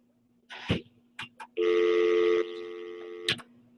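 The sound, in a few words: telephone line tone during call-in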